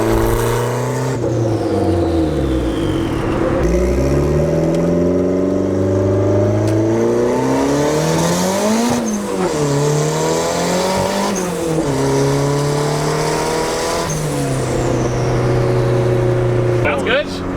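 A turbocharged Honda Civic, running rich, revs hard through its exhaust, rising and falling in long sweeping pulls with turbo whine on top, loud and close throughout.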